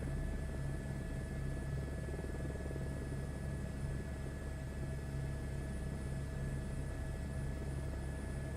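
A helicopter flies over a house outside Atlanta, a faint, steady low rumble with a throbbing rotor pulse that stays even throughout, with no voices.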